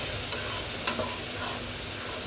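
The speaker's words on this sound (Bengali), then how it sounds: "গোল আলু আর পেঁয়াজ একসাথে আমি কষাবো" Round potatoes and onion are sautéed with lightly fried chicken in oil with spices, a steady close sizzle with two sharp spoon clinks against the pan, no voices.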